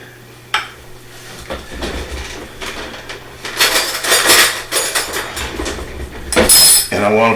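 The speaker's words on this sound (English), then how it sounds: "we'll go ahead and whisk this" A whisk scrapes and clinks around a bowl of shrimp taco sauce with chopped cilantro, in irregular bursts of metal-on-bowl clatter that grow louder toward the end, close by.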